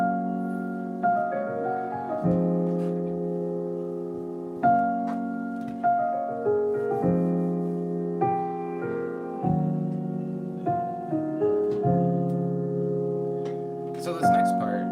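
Piano playing a sequence of sustained chords, each struck and left ringing with a steady rhythm every second or two, fairly loud and close, heard alone without voices.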